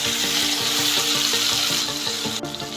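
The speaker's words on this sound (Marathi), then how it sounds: "आता यामध्ये बारीक केलेली ओल्या तुरीची डाळ घालायची आहे" Ground fresh pigeon pea dal hits a hot tempering of oil and turmeric in a pan for Vidarbha-style amti, making a loud, steady sizzle with rhythmic stirring scrapes and no voice, before it dies down near the end.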